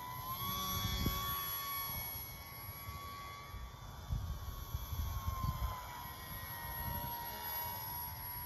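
A Quick Oats RC sport flyer built from a kit is in flight, its engine giving a thin, steady whine that drifts in pitch. The plane sounds fairly distant and faint against low outdoor noise, with no talking.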